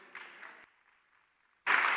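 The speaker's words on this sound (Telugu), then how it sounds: "అట్టి వారి కొరకు చప్పట్లు గట్టి కొట్టండి." A church congregation bursts into loud clapping near the end after a quiet stretch with faint background murmur, the applause sudden and full.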